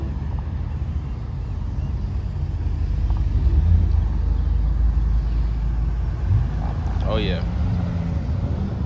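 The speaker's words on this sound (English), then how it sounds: "we got the Audis coming back to back" Audi cars drive past one after another at a car show, a steady broad engine and road rumble swelling toward the middle, mixed with wind buffeting on the microphone; a voice speaks briefly near the end.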